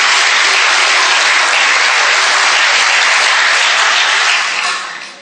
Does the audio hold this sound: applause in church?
yes